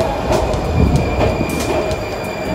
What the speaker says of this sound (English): Here come the train.